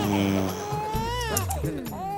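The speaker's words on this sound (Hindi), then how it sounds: "ये तो बच्चे के रोने की आवाज है।" A small baby cries in a Hindi TV sitcom household, a continuous loud wailing with rising and falling pitch that fills the whole moment.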